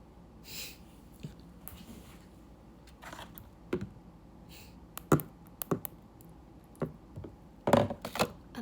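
Scattered keyboard taps and clicks come through during a livestream, irregular and fairly faint, with soft breathing and low room noise between the keystrokes.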